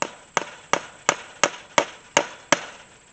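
A big hammer drives a nail while new electric-fence hot wire is put up: eight loud, evenly spaced blows land in a steady rhythm, each sharp crack decaying briefly, with no speech.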